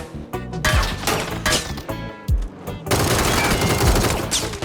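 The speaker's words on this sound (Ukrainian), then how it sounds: "Якийсь дурак стріляє по мені." Rapid bursts of gunfire from PUBG, loud sharp shots and heavy impacts layered over a dense, busy mix.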